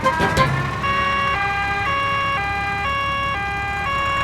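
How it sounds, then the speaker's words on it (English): A cartoon ambulance siren sounds close and clear in a steady two-tone alternating wail, after a brief bump at the start. "The ambulance is here!"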